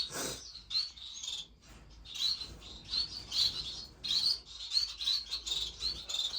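Finches in an indoor bird room chirp and tweet in quick, bright bursts right after the light is switched on, several birds calling close by in a busy, irregular chatter.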